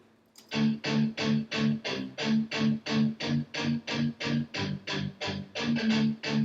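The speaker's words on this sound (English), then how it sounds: "Just found this guitar loop." A looped guitar riff, deep and pitched down, repeating in steady rhythmic strums with a thick low end, loud and upfront with no talking.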